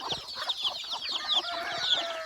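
Native country hens and young chicks on a farm cluck and peep continuously together as they drink water, a dense, close chorus of overlapping calls with no talking.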